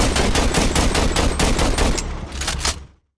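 Rapid, dense shotgun and rifle fire in the Roblox horror game Nightmare, a loud continuous burst of overlapping shots that thins slightly near the end before cutting off abruptly.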